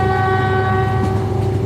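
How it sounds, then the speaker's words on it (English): Train horn sounding aboard a train heading to Quy Nhon, Vietnam, one loud sustained tonal blast held steady throughout, over low rumbling rail noise. "And the train is sounding, so stick around."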